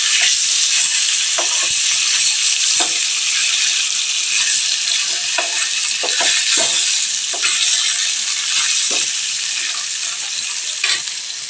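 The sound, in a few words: fish frying in a pan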